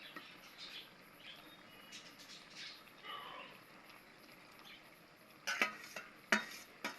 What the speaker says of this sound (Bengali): মাছ ঢেলে দিলাম